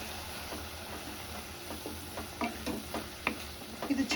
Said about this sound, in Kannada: ಇಷ್ಟನ್ನು ಹಾಕಿ ಚೆನ್ನಾಗಿ ಫ್ರೈ ಮಾಡಿ